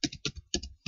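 Quick keystrokes on a computer keyboard as a username and password are entered, four crisp, close clacks in an uneven rhythm with no voices.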